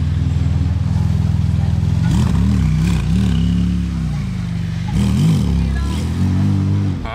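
A Porsche Turbo with an aftermarket exhaust idles with a deep, burbling rumble, then blips the throttle in a few quick rising revs before settling back, close and loud, with some background commotion.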